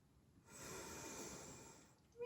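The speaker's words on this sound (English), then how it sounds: "Breathing in and out." A single slow, soft breath during a vinyasa yoga flow, heard close and quiet with no talking.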